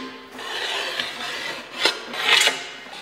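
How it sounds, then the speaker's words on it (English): A small deburring tool scrapes burrs off a metal fuel tank part in short, close rasping strokes, with a few sharper scrapes near the end and no talking. "I just use a little deburring tool, and that makes really quick work of it"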